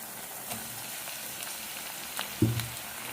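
Tomatoes added to softened onions frying in a pan for egg gravy, a faint, steady sizzle close by, with a brief louder thump of stirring near the end.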